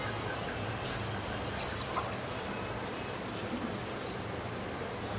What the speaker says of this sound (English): Now we're adding more water to it.